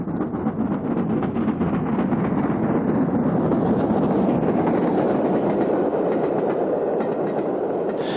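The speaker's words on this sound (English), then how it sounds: "A few more scenes of LMS locomotives complete our story of that great railway." An LMS railway locomotive hauling a train along the rails gives a loud, continuous rumble with a dense clickety-clack of wheels, steady throughout and with no voices.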